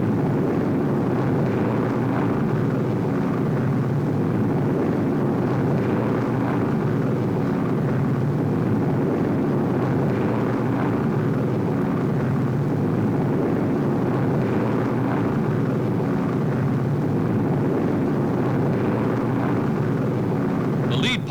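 RAF bomber aircraft skimming the treetops over the Dutch countryside in a wartime newsreel raid on a radio factory, a continuous loud engine roar that holds steady throughout.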